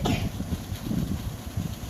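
A young child with a cough from a change in weather coughs several times in quick, harsh bursts, close and loud, with no speech.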